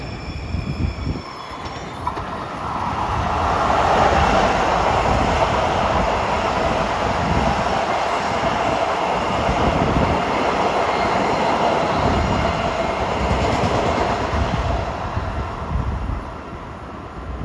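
LIRR train 2762 to Far Rockaway passes Woodside station during the evening rush, a loud, sustained rumble of rolling cars with wheel squeal and clatter that swells, holds steady and fades slightly at the end.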